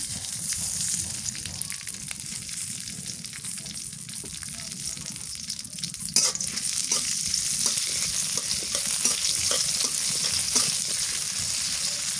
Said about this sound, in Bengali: রসুন মরিচ ভাজা হয়েছে